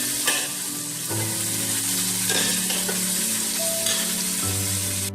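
Grated carrot frying in hot oil as a garnish for vegetarian Arabian Bukhari rice, a steady close sizzle with occasional stirring scrapes throughout, no voices.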